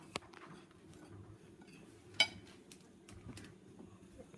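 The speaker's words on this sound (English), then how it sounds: "you're just going to stir this up" A spoon stirs a seasoning mixture of pepper in a bowl, giving a few faint, scattered clinks against the side, with one sharper tap near the start and another in the middle.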